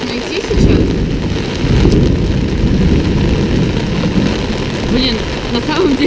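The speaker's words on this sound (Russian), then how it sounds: "на самом деле опасный гром" Loud low rumbling thunder rolling continuously with rain noise, dense and close, with faint voices underneath.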